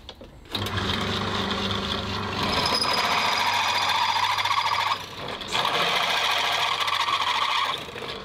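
A drill grinds and whines steadily while boring through a half-inch mild steel bar, starting abruptly, surging louder, dipping briefly, then continuing close by.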